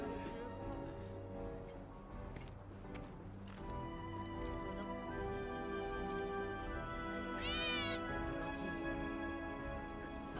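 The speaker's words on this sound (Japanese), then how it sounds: "猫の鳴き声しなかった。" A single short meow rises out of a steady hum of background music and ambient tones in Final Fantasy VII Remake, with a faint rhythmic clopping earlier.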